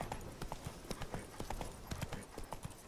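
A horse's hooves clip-clop at a brisk, regular trot in The Witcher 3 video game, close and clear, with a quiet ambient bed beneath.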